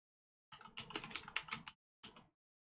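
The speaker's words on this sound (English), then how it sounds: "Typing a message to be printed on the label." Rapid keystrokes on a computer keyboard clatter close by for over a second, then pause before a short final burst of taps, with silence around them.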